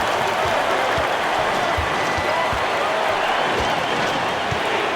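Sustained crowd roar and cheering fills an arena in an NCAA 2K25 basketball game, USC at Iowa, a dense continuous wash with faint ball bounces and sneaker thuds underneath.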